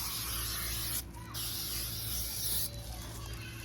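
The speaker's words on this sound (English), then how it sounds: "So I'm going to go ahead and spray the adhesive" Spray adhesive hissing from an aerosol can onto fabric in long, close bursts, with a brief pause near the one-second mark, over a steady low hum.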